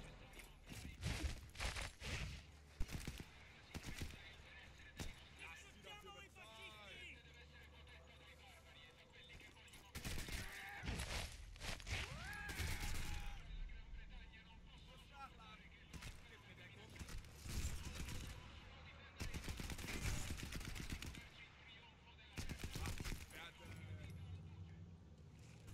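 Gunfire in the Sniper Elite 4 video game, with sharp shots and bursts scattered across a long stretch, some loud and some fainter, mixed with other game sounds while people talk over it.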